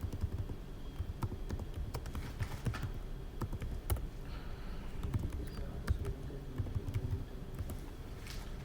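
Keys clatter on a computer keyboard as a short command is typed, soft irregular taps and clicks close by, fairly quiet with no voices.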